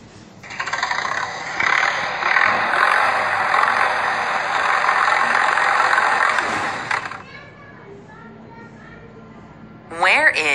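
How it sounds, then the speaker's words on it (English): Tractor engine running with a loud, rough rattling drone for about six seconds, then cutting off abruptly to quiet before a voice speaks at the end. "Tractor."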